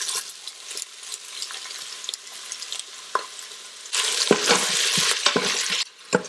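Onions fry in hot oil with shahi jeera and whole garam masala, a soft steady sizzle with occasional stirring scrapes, then a louder burst of crackling and stirring partway through.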